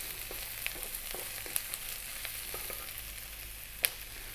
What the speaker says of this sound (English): Next up, we're going to add in our mushrooms